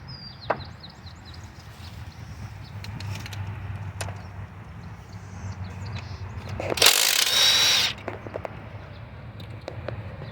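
Ratchet work on bolts of an old truck, with faint scattered clicks and knocks through a steady low hum, then a brief louder burst of whirring ratcheting near the middle.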